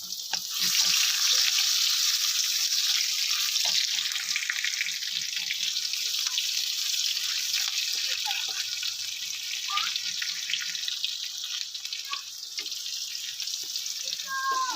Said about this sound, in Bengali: পেঁয়াজ দুটো আমি হালকা একটু ভেজে নেব